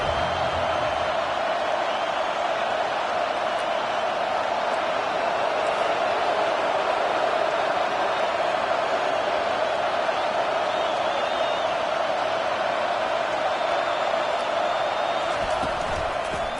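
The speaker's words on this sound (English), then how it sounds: "this crowd trying to help keep them there" A football stadium crowd roars steadily in a dense, continuous wash of cheering and noise as the defense holds the opponent deep in their own end, sustained and loud throughout.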